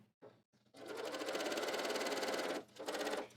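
A sewing machine runs steadily for about two seconds, sewing a pocket seam at a 5/8 allowance, with a few short starts before it and a brief stop and restart near the end.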